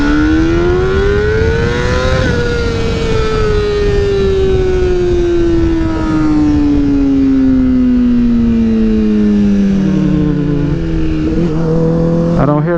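A Honda CBR 600RR motorcycle accelerates in first gear, its engine climbing in a loud, close whine that rises, then eases downward in pitch as it holds revs, before a short shift-like drop at the end.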